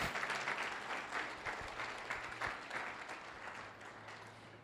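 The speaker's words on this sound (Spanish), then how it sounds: "Dele aplauso, sí, déselo fuerte al Señor." A church congregation at a Spanish-language service claps in sustained applause, a dense, even roar of many hands close by that slowly fades toward the end.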